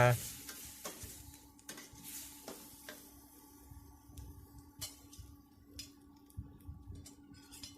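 Spicy beef with chillies stir-fried in a pan, with faint sizzling and repeated scraping, stirring knocks throughout, fairly quiet and steady.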